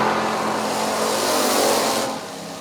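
A Plymouth Cuda drag race car launches at a drag racing event with a loud, sustained engine roar that drops off sharply near the end.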